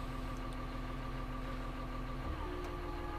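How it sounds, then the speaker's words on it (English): The secondary steering pump on a Caterpillar 150 motor grader runs with a steady droning hum over the idling machine, and its pitch shifts partway through. "the secondary steering pump's in"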